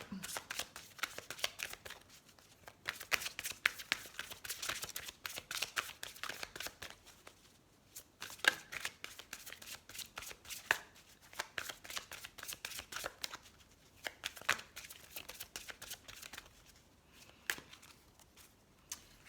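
Oracle cards are shuffled by hand in a steady stream of soft riffling and flicking close to the mic, quiet and continuous with brief pauses, with no talking.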